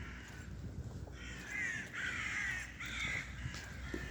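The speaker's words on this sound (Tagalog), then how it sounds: "Ibon, yung mga ibon." Crows cawing outdoors in two loud, drawn-out bursts over a steady background, with a short pause between them and no talking.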